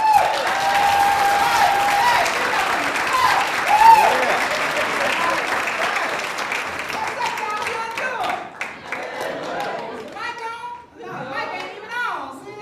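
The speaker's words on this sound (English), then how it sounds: "please give me a warm round of applause for Annie McKnight." A comedy showcase audience gives warm, loud, sustained applause with some cheering, which tapers off as a voice starts talking near the end.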